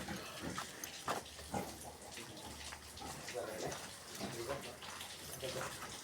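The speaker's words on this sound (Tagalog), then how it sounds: "Daming baboy, yung gagandang baboy, no?" Many pigs crowd a pen on a farm, grunting and squealing in a busy, continuous din with water splashing, as people talk nearby.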